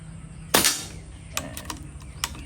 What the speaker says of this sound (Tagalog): So, first shot po tayo, sir. Una, putok.